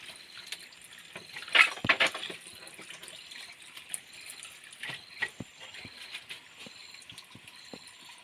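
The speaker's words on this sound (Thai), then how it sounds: "ขอไปล้างหมูก่อนนะครับ" Raw pork rinsed under running water in a cabin kitchen, a soft steady trickle and splash with scattered clinks and knocks of handling, a louder burst near the start, close and fairly quiet, with no voices.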